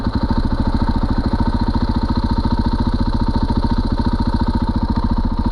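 A KTM 500 EXC single-cylinder motorcycle pulls in third gear from a rolling start, its rapid steady thumping exhaust pulses loud and close with a constant throbbing drone throughout.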